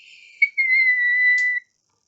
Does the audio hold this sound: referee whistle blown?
yes